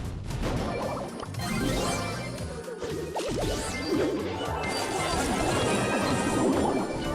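Glass shatters loudly and repeatedly from a character's super ability in the mobile game Brawl Stars, sharp crashes over busy game music and effects, continuing through the whole stretch.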